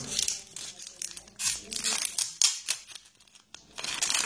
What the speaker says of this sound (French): on enlève le scotch, ça fait un trou